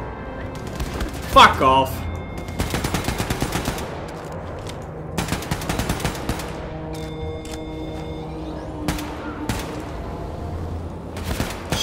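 Bursts of automatic gunfire in Wolfenstein II: The New Colossus rattle in repeated volleys with sharp single shots between them, over a steady game ambience, while a man swears briefly.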